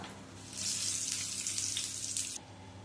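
Whole cumin seeds and bay leaves hit hot oil for a vegetarian cauliflower curry, setting off a bright, hissing sizzle that lasts about two seconds and then drops away suddenly, leaving a faint low hum and no talking.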